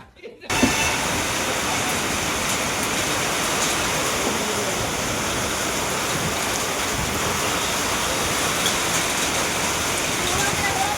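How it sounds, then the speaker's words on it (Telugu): Steady heavy rain pours down without letup, a dense continuous hiss that starts abruptly after a brief quiet moment and stays loud and even throughout. "ఇప్పుడే ఆగేటట్లేదు ఈ వర్షం."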